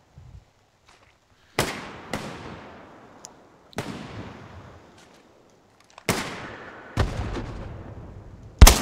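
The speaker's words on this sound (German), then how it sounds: "Die heizen uns jetzt mit Luftangriffen ein" A series of sharp, loud air strike explosions in the video game Hell Let Loose, about seven booms spaced irregularly, each followed by a long rumbling decay; heavier blasts cluster near the end.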